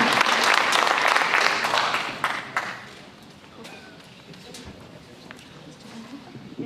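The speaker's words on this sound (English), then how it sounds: "let's give a round of applause to Mr. Jackson Martin" A round of applause at a high school signing day, loud clapping from a gathered crowd for a couple of seconds that thins out into scattered claps and room murmur.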